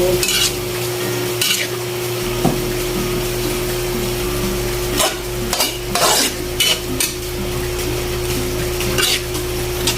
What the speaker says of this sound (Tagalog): At haluin natin ito.